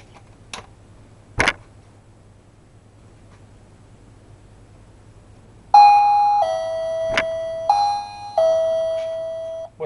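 A wireless doorbell converted from battery to mains power rings after being plugged in: a couple of faint clicks, then a loud, clear repeating electronic chime melody sustained to the end of the clip, with no talking.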